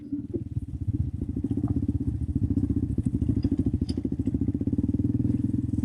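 A 2026 Honda CRF 300F dirt bike engine drones steadily up close, its rapid pulsing note holding a fairly even pitch with small rises and falls.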